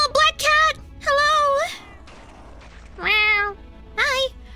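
A black cat in the video game Little Witch Nobeta meows several times, loud and close, in a series of separate drawn-out calls with short pauses between them.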